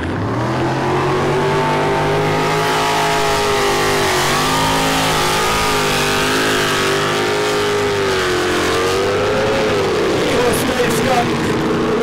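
A big blown alcohol displacement powerboat engine races at a St George powerboat event, a loud sustained roar with steady harmonic drone that dips and climbs in pitch as it revs, with a commentator talking over it.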